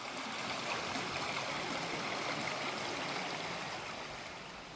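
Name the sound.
River Rivelin flowing stream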